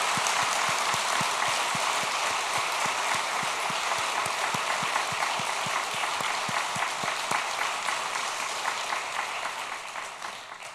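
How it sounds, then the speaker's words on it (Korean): Congregation applause fills a church service at a fiftieth-anniversary jubilee Sunday, a dense, steady clapping from a large crowd that holds evenly for several seconds before thinning out and fading toward the end. "주님께 무한 영광과 감사와 찬양의 마음으로 하나님께 영광의 박수를 올려드리시면 좋겠습니다."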